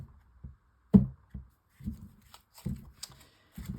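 Tarot cards being shuffled by hand in a quiet room, heard as a series of short papery riffling bursts spaced irregularly, close and fairly soft, with no talking.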